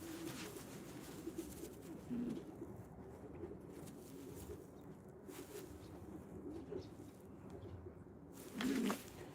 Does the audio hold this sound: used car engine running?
no